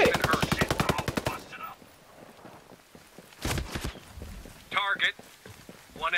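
Rapid automatic gunfire in the tactical shooter Ghost Recon Breakpoint, a loud close burst followed by scattered shots and impacts, with a voice talking over parts of it.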